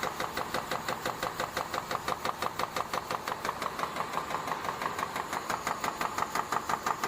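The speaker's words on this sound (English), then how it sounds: "First, use a punch machine to punch out the shape of the blade." A punch machine in a blade factory stamps out blade shapes with a fast, regular series of mechanical thumps, about three or four per second, steady and moderately loud over a continuous machine drone.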